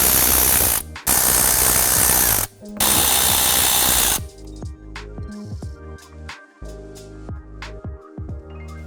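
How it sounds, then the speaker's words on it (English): A power tool runs loudly in long bursts to back out 7mm bolts from the wheel well liner of a 2024 Ford F150, then gives way to quieter ratcheting clicks and knocks. "So we're gonna go ahead and back these out."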